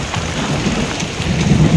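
Heavy rain pours down on the Kareri Lake trek in Himachal Pradesh in a dense, loud, continuous hiss over a deep rumbling undertone, with no voices.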